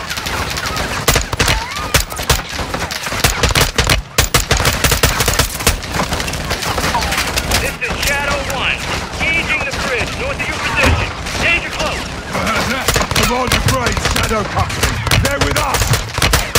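Dense automatic and burst gunfire from a Call of Duty Modern Warfare II firefight on a bridge against armored army forces, loud and nearly continuous with overlapping shots and explosions, under shouted voices and radio chatter.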